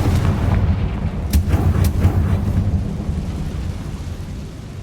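Bombarda and Confringo spells detonate in Hogwarts Legacy as loud, booming blasts with rolling, thunder-like rumble and a few sharp cracks, fading toward the end.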